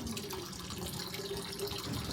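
Water drains through a strainer in an off-grid water system, a continuous close rushing and splashing flow without pause and without speech.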